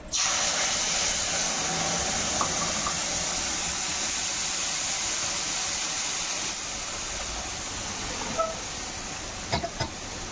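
A ground paste of green and dried chilli, cumin, coriander, onion and garlic lands in hot oil in a pan and sizzles with a loud, steady hiss that fades slightly partway through, broken by a few small clinks near the end.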